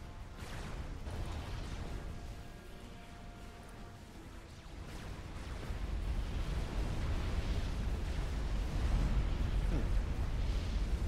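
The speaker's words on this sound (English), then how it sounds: "That would have been a lot more scary if ACU explosions were still actually dangerous." An ACU unit explodes in the real-time strategy game Supreme Commander, a low rumbling blast that swells and sustains with heavy bass, layered over ongoing battle noise.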